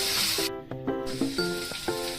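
Cabbage stir-frying in a pan for fried rice gives a steady hiss and sizzle, overlaid by a louder tonal melody that starts and stops throughout.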